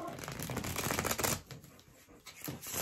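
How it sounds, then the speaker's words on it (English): A deck of tarot cards being shuffled close by, quick riffling bursts that run steadily at first, then thin out into separate flicks before a final flurry. "So let's give these cards some shuffles"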